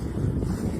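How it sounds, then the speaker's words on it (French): Light wind at sea aboard a sailboat on a coastal voyage, a steady low rushing buffet of wind on the microphone with a soft water wash underneath. "Il y a un petit peu de vent, il n'y en a pas trop"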